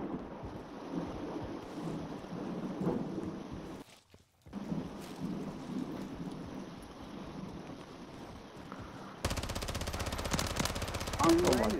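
Heavy-recoil gun firing in a shooter video game, rapid repeated shots under a rumbling, rain-like backdrop with a short dropout midway and a harsher, brighter stretch near the end; faint talk may sit underneath.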